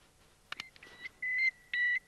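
A couple of faint clicks, then electronic beeps from an avalanche transceiver: short chirps followed by two longer, steady high-pitched tones, close by.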